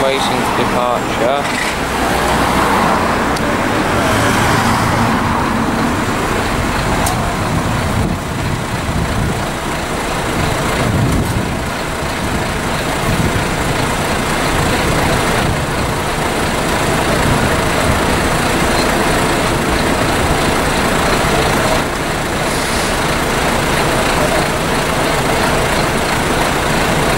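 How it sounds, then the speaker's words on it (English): A Brighton and Hove route 7 bus idles at the Hove Station stop and then pulls away, giving a steady low engine rumble with a slowly changing tone mixed with street traffic, loud and close throughout. "There goes the bus."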